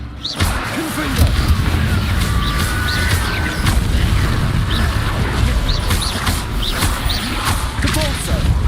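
Confringo blasting spells exploding in Hogwarts Legacy, a dense, continuous barrage of booms, whooshes and crashing impacts layered with game effects, loud throughout.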